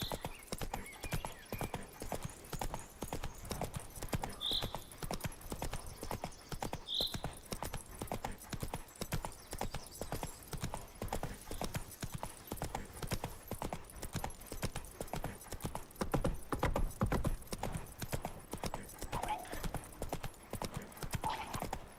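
Hooves of Roach, a horse in a video game, clip-clop in a steady rhythmic gallop throughout, with a couple of brief high sounds and an occasional whinny over the constant pounding.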